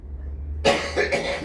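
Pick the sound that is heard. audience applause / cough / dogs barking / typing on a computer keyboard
cough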